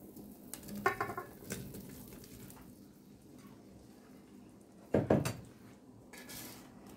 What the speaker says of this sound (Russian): Добавили, мешаем аккуратненько силиконовой лопаточкой.